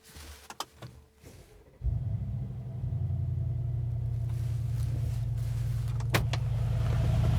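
A 2020 Mercedes G63 AMG V8 engine cranks and fires up, settling into a deep, steady idle rumble from the exhaust, preceded by a few clicks and clunks.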